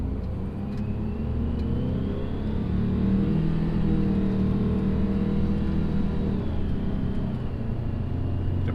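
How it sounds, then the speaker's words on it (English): Ford truck with a Detroit diesel engine, revving in a loud steady rumble that climbs slightly in pitch midway and holds close and continuous throughout, with no voices. "when they hear this Detroit rev up, they think I'm trying to race them"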